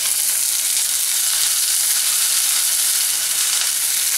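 Onions frying in olive oil on a stove, probably in a van kitchen, give a dense, steady, close sizzle that holds evenly throughout with no talk.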